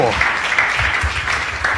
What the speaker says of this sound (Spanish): Alguien alabe a Jesús con ese aplauso